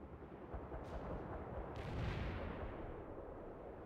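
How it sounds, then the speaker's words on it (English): Cluster bomb strike in the video game World in Conflict, heard as a dense, continuous rumbling barrage of distant explosions rolling on steadily without pause. "Strike mission received. Cluster bombs are out."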